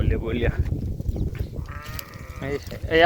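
Goats and sheep bleat while grazing on a Kutch farm, with several nearby wavering calls spaced through the clip and people talking quietly underneath.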